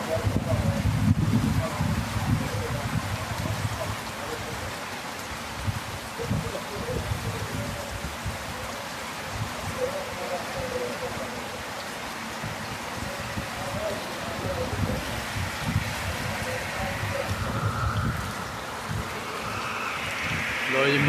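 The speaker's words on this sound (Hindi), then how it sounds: "हवा भी बड़ी तेज चलती पई है, ते नाल बारिश भी जरा ना चंगी स्पीड च बारिश लगी दी है" Strong wind and rain outdoors at dawn near rice fields: a steady wash of rainfall with heavy, gusting wind buffeting the microphone in low rumbling bursts, continuous for about twenty seconds.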